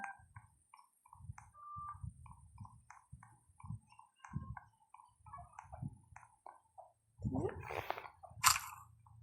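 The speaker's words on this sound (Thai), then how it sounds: "เสียงใครเคี้ยวอะไร" Wet, squishy chewing and biting from a character eating in the Roblox survival game 99 Nights in the Forest, repeated in short uneven bites, fairly quiet, ending in a louder crunchy burst.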